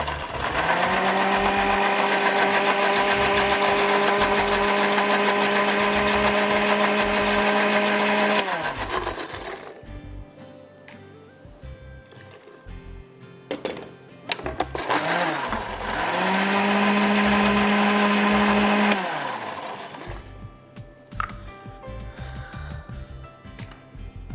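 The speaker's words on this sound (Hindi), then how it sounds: "एंड ब्लेंड कर दीजिए" A blender whirring through masala ingredients, two long loud buzzing runs of the motor separated by a quieter pause with small clatters, each run ending as the motor winds down.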